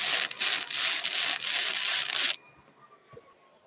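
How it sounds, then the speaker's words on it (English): Flux core wire welder arcing close up in a loud, crackling, sizzling burst that pulses and surges for about two seconds, then cuts off into quiet with a faint tick. "that surging sound is the wire having to hit and then burn back"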